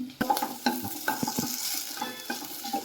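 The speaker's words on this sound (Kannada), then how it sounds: "ಈ ಥರ ಸ್ವಲ್ಪನೇ ಬೆಂಡೆಕಾಯಿ ಹಾಕ್ಕೊಂಡು ಅದ್ರ ಜೊತೆ ಎಣ್ಣೆ ಹಾಕಿ ಹುರಿಯೋದ್ರಿಂದ ಅದರಲ್ಲಿರೋ ಲೋಳೆ ಎಲ್ಲ ಬರೋದಿಲ್ಲ" Ladyfinger okra frying in a small amount of oil in a pan for village-style sambar, with a close, steady sizzle broken by repeated scraping stirs and clinks of a spatula.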